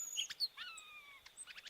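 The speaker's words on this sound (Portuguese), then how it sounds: "Descubra o fascinante Inhapim, o encanto do Icterus cayanensis." Song of an Epaulet Oriole (Icterus cayanensis, Inhapim): a few sharp chirps, then long clear descending whistles and a quick run of closing notes, fairly near and alone.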